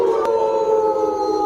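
A voice imitates a wolf howl as one steady, sustained tone held for the whole moment, close and fairly loud, with a brief click near the start.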